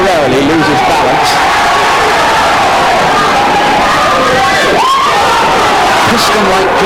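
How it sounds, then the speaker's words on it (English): A boxing arena crowd roars and cheers loudly and continuously, with shouts and whoops swelling at a title fight, as a commentator talks over the din. "The crowd get quite excited as Canizales temporarily loses balance."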